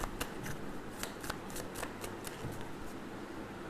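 Tarot cards are shuffled by hand in a quick run of soft, riffling flicks and papery slaps, close and fairly faint over a steady background hiss.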